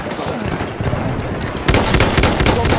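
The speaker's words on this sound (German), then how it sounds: "Ich werfe eine Granate." Blasts and crackling gunfire fill a Battlefield 1 battle on Farquhar Hill, a dense, loud, continuous barrage with a sharper burst of sharp reports partway through.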